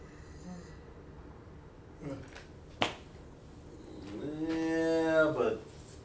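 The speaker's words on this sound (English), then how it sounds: "What's that? Looks like a cow to me." Cow gives one drawn-out, rising moo near the end of the clip, moderately loud and nearby, after a sharp snap-like click and a few soft noises.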